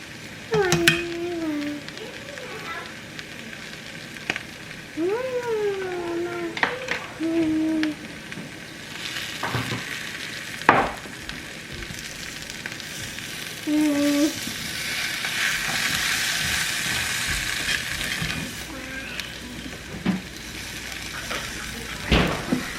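A vegan dinner frying and being stirred in a pan gives a soft continuous sizzle with scraping stir strokes. Voices chat intermittently over it.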